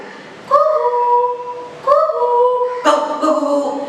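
A person imitates a dog with their voice, producing three drawn-out, whining yelps, loud and close, each held for about a second.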